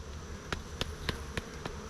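Honey bees are knocked off a hive frame by a fist while honey is pulled with a fume board: a low insect buzz underneath, punctuated by five sharp, evenly spaced thumps, fairly quiet overall.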